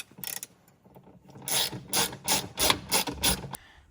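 A ratchet wrench tightens 6mm bolts on a Ferrari F430 gated shifter: a few short clicking strokes, then a steady run of rhythmic ratcheting bursts, close and clear.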